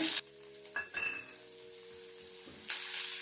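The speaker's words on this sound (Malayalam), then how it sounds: "ഞാൻ ഇതിനകത്തേക്ക് കുറച്ച് ക്യാബേജ് എടുത്തിട്ട് നീളത്തിൽ അരിഞ്ഞു വെച്ചിട്ടുണ്ടായിരുന്നു. അപ്പോൾ അത് ഇട്ട് കൊടുക്കുന്നുണ്ട്." Sliced cabbage tossed into a hot pan for restaurant-style chicken noodles gives a brief clatter and bursts of sizzling, then a steady frying hiss; a loud, bright sizzle returns near the end.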